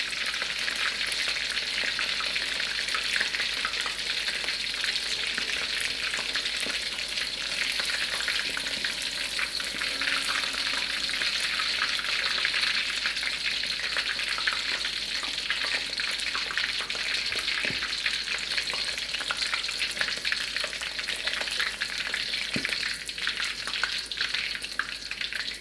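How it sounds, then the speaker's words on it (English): Shrimp toast fries in hot oil, producing a dense, steady bubbling sizzle close up that continues unbroken for the whole stretch with no voices. "Say fry it for like 2 minutes to get a nice golden color."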